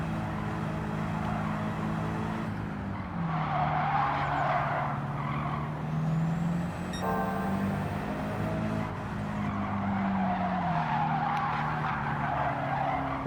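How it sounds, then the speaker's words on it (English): Rally car in a racing video game skidding with sustained tire squeal over a steady engine drone, continuous and loud for the whole stretch with a brief gear-shift break midway. "This is a rally car."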